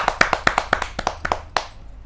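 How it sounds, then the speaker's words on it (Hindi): About a dozen sharp hand claps ring out in quick, uneven succession at a kavi sammelan as a poet is welcomed, close and fairly loud, then fade out quickly. "जोरदार ताली के साथ हम स्वागत करें"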